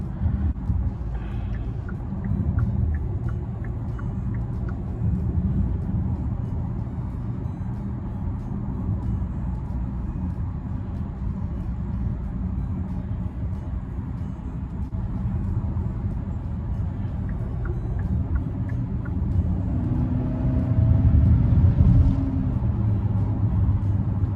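A 2023 Hyundai Santa Cruz pickup drives along with a steady, low road and engine rumble heard from inside the cabin, swelling slightly louder toward the end.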